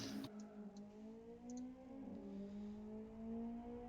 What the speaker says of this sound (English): The revs are up and we are go